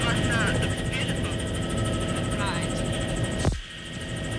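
A helicopter flying over Speyside in Grampian, Scotland, in 1983 gives off a steady, pulsing rotor drone, with voices talking over it and a short knock near the end.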